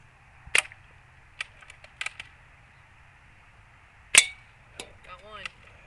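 An L96 airsoft sniper rifle fires two sharp, snapping shots a few seconds apart, with lighter clicks and rattles of handling in between against a quiet background.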